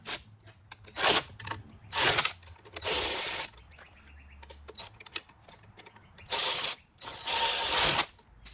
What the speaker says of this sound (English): Nuts and bolts, tighten them up.